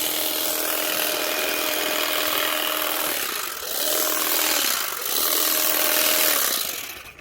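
Steady, close buzzing of Makita DUM604 cordless grass shears trimming a lawn edge, with a brief dip and slight change in pitch partway through.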